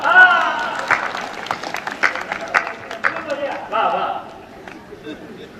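An audience at a Hindi kavi sammelan poetry recital in Amethi claps in scattered, uneven bursts that build and then fade out, with the poet's voice talking over the applause.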